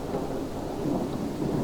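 Steady, heavy rain from a thunderstorm pours without pause, a dense continuous hiss and patter with low rumbling underneath, filling the whole stretch at an even level.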